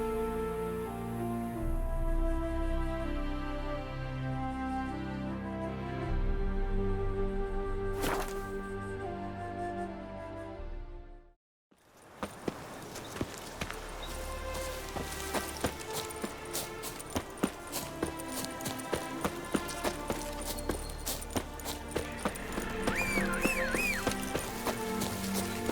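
Roach, a horse in The Witcher 3 Hearts of Stone, gallops with rapid rhythmic hoofbeats after a brief silent cut, following a stretch of music and ambience, with occasional faint voices.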